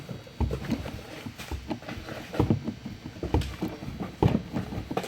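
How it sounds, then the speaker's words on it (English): Handle of a 1 1/4 hydraulic swaging unit being pumped, producing a steady run of close, rhythmic knocking strokes about once a second with metallic clunks and no speech. "I'm pumping the handle now."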